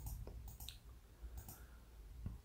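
Sharp computer mouse clicks while working in Excel, a few isolated clicks spaced irregularly over a quiet background.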